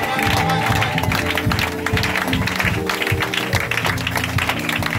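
A church congregation applauds and cheers in worship, a dense, loud wash of clapping and voices with music and chanting mixed in throughout.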